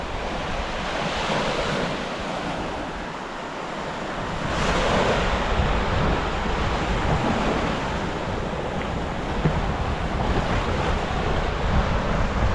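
Strong cold wind buffets the microphone over a roaring Baltic surf at the Łeba sand dunes, Słowiński National Park, Poland, a loud continuous rush that swells midway through; no one speaks.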